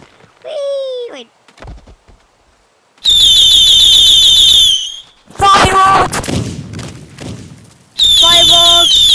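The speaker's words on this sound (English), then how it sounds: "Fireworks! Yay!" Fireworks exploding in the video game Teardown, with several loud crackling bursts and whistling shrieks coming in separate bangs, with a high-pitched voice calling out between them.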